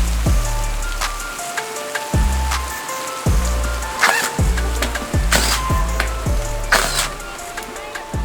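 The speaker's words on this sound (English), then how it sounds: "Starting to rain." Heavy rain pours onto a canopy outdoors beside a chicken coop under construction, a loud steady wash of drops mixed with repeated low thumps and some clanking.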